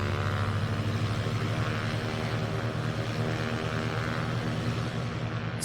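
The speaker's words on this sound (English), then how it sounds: "those engine sounds aren't bad" A Cessna 182Q piston engine in a flight simulator drones steadily throughout, a loud, even propeller hum with rich low harmonics and no speech.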